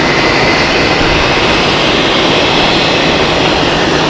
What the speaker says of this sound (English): Beautiful 757 of Iceland Air.